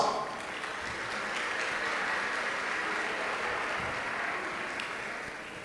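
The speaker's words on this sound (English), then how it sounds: "Please give all of the youth that attended Career Week an applause." Audience at a career development conference applauding the youth of Career Week, a broad, even wash of clapping from a large crowd held at steady loudness and fading slightly at the end.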